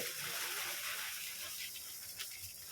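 Puffed rice tipped into a large vessel of water, a faint, continuous hissing rush and splatter, with a few small splashes toward the end.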